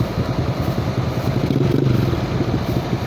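A motorcycle loaded with sacks of palay rumbles nearby, its engine a steady low chug with some rattling and clatter, without any talk.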